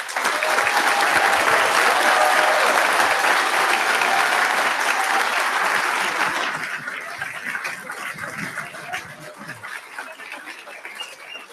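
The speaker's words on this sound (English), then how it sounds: "I'd like to have one more round of applause for the class of 2020." A round of applause for a graduating Doctor of Physical Therapy class at a commencement ceremony, with a loud, dense crowd clapping that holds steady for several seconds and then thins and fades.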